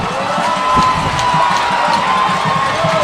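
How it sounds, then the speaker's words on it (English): A football stadium crowd at a Ouachita Baptist University night game against Harding keeps up a steady roar of cheers and shouts, dense and constant throughout, with no clear talking on top. "Listen to the crowd."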